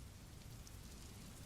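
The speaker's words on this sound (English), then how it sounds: "Rain tapped against the glass." Steady rain falls as a dense, even hiss with faint scattered patter, quiet and unbroken, with no voices.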